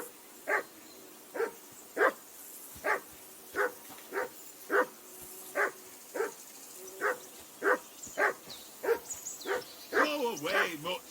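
A dog barks repeatedly in a steady rhythm in Kingdom Come Deliverance 2, with the barks speeding into yips and whimpers toward the end; a voice speaks over the final seconds.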